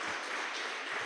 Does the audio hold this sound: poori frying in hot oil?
no